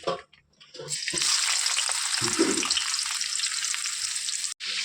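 Onions hitting hot oil for chicken chukka, a loud sizzle that starts abruptly and then holds as a steady, bright crackle, with a few stirring bumps, close up.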